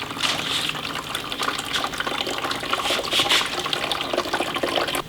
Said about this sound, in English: then we'll just drain the washer tub, into our bucket.